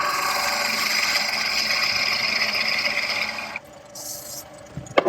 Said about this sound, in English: And I'll just use the skew chisel